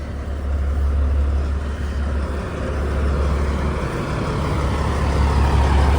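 A grain truck's engine runs with a deep, steady low rumble and broadband roar that holds constant for several seconds, loud and close, with no talking.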